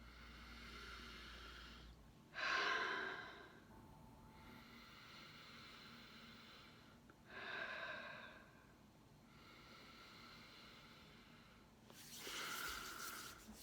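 Three slow, deep breaths drawn in through the nose, each a soft, airy rush lasting about a second, separated by long quiet pauses over faint background hum.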